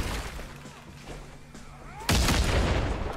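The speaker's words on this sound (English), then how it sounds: "listen to that gunshot" A single heavy gunshot booms out in the brawler game Rumbleverse, a sudden loud blast that hits after a stretch of quieter game noise and then rings on as a broad roar.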